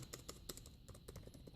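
Keys clicking on an Asus ZenBook UX305 laptop keyboard, a quick run of light, irregular taps close by, fairly faint, with no voices.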